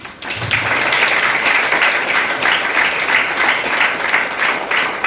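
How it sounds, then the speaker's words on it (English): An audience at a school Youth Parliament event claps loudly and continuously in a dense, sustained round of applause, with no speech over it. "Dear friends, please put your hands together to welcome them"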